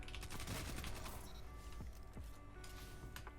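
Repeated gunshots from a Destiny 2 weapon in a Lingering Dread build, a loud, busy volley of cracks spread across the stretch with a few sharper isolated shots near the end, mixed with game effects.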